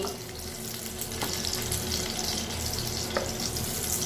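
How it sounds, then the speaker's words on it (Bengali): Eggs and pointed gourd fry in a pan, a continuous close hiss and bubbling sizzle of oil that holds steady throughout with a couple of faint clicks, no speech. "উল্টে নিয়েছি আর কিছুক্ষণ ঢাকা দিয়ে ভেজে নেব"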